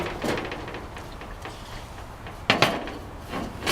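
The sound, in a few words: opening Coleman stove lid and removing the fuel tank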